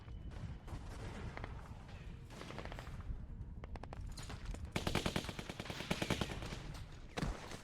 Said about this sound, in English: Is that a machine gun? What the hell?